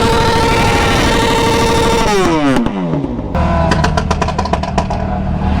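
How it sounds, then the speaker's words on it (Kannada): Big 1500cc motorcycles ride past at an Independence Day meetup in Hebbal, Bangalore. Loud, dense engine roar and revving swell and pitch down as the bikes go by, then more engines carry on close by. "ನಮ್ದೆಲ್ಲ 100, ಅವ್ರದ್ದೆಲ್ಲ 1500cc ಬೈಕ್ಸ್ ಎಲ್ಲ ಹೋಗ್ತಾ ಇವೆ"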